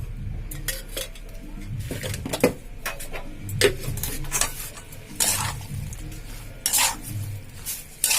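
Fish is mixed by hand in a metal bowl with chili powder and raw mustard oil, giving repeated close clinks, scrapes and wet stirring sounds with an uneven rhythm and no talking.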